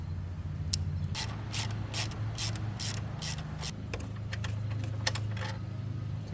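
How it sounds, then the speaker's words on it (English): A hand ratchet clicks in quick irregular runs as it tightens a frame slider bolt on a Yamaha R3 motorcycle, close and clear over a faint steady hum. "Swap out a ratchet."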